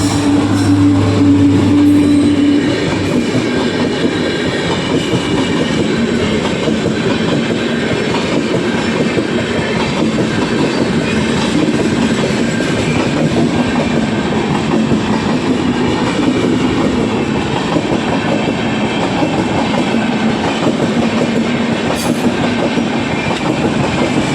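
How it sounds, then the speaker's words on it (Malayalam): A train passes close by on the railway tracks, a loud continuous rumble with rhythmic clattering of wheels over rail joints that lasts the whole stretch, with no voices. "ഇപ്പം വരും ട്രെയിൻ"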